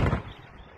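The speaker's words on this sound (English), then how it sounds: "Oh, yo, supernova explosion." Deep boom of a fireworks explosion outdoors, loud at the start then fading into a lingering rumble over under a second.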